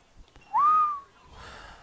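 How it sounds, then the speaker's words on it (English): One loud, sharp whistle blast rings out at a high school baseball game, brief and piercing, then fades into faint crowd and field ambience. "Just murdered your ears with that whistle."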